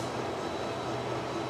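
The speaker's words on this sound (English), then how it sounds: "I think we've got a big old diesel train here" A big KTM diesel train in Malaysia rumbles steadily with a low engine drone and a faint high whine, loud and continuous without voices.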